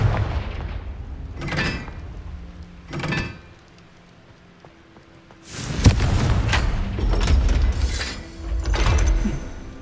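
Confringo blasting curse cast in Hogwarts Legacy, sharp fiery bursts and booming impacts: two separate blasts early, a quiet gap, then a loud cluster of explosive hits and crackling debris.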